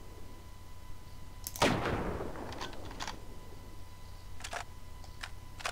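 A single sharp gunshot at a shooting range in Half-Life: Opposing Force, followed by a decaying echo, then a few faint clicks and distant impacts against a steady low hum.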